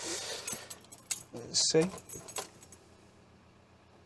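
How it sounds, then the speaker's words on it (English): Car keys for a high-mileage Audi TT jangle and clink close by in a hand for a few seconds while someone talks briefly over them. "I'm going to need the keys"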